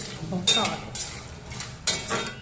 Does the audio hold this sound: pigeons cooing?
no